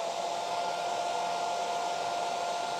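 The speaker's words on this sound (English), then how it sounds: "let's grab the dryer, dry that bit" A hair dryer blows over freshly stenciled paint with a loud, steady whir at an even pitch, running without pause and with no talking.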